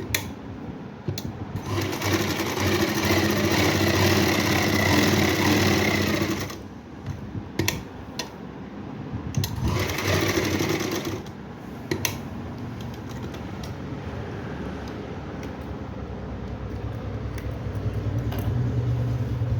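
Sewing machine stitching a pocket onto palazzo pants, running in long loud bursts of rapid whirring with brief pauses between seams.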